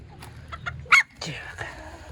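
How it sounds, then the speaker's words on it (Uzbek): A Korean breed rooster kept at a home poultry yard in Fergana, Uzbekistan, gives a few short clucks and one sharper squawk, close by, with people talking nearby. "koreyskiy xo'rozimiz bor. Bu ham juda chiroyli."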